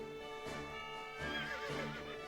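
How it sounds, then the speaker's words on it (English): Horse neighing in the video game The World Is Your Weapon, a clear whinny with quavering tonal calls rising and falling, fairly close, with a couple of louder bursts and faint hoof clip-clops. "I just want to go see my friend Horse here."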